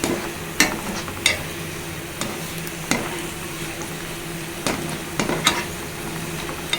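Telangana-style bitter gourd fry (kakarakaya vepudu) sizzles steadily in a pan, with a few sharp scraping knocks of stirring spaced through the frying and no voices.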